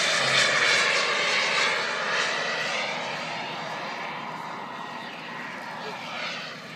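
A large RC jet glider with a five-meter wingspan flies overhead, its motor a broad, steady jet-like whoosh that slowly fades as it passes and recedes.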